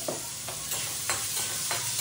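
Onions with green chillies and curry leaves sizzle steadily in hot oil in a pan, stirred in regular scraping strokes at a close, even level with no talking.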